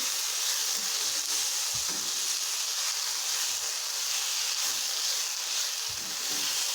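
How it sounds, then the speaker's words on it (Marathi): Finely chopped tomatoes sautéing in a pan give a continuous, even sizzle with a few soft stirring knocks, steady and close throughout with no talking. "हे व्यवस्थित परतून घ्यायचे"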